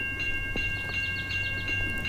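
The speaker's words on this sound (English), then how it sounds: "let's wait for the next train, which is already here" An Amtrak train with a heritage unit passes close by, a continuous rolling rumble with sustained horn-like tones and light rhythmic clatter over it, no talk.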